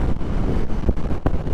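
Loud wind rushes and buffets the microphone in uneven gusts while riding a 2021 Indian Scout motorcycle, with a low engine rumble underneath.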